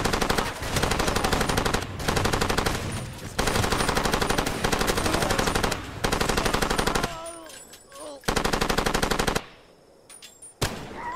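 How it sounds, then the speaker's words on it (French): Sustained machine gun fire in the video game Far Cry 2, long loud automatic bursts broken by short pauses, then a quieter stretch with a few single shots near the end. "On lui tire dessus."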